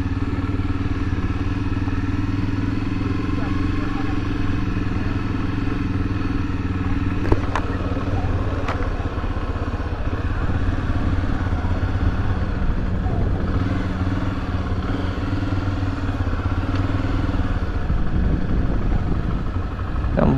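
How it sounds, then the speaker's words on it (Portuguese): Several motorcycles, including a Honda XRE300, idle and rumble steadily at a shopping mall's opening day, a continuous near engine drone with a few clattering knocks and a brief rev near the end. "Tem um bocado de moto aqui."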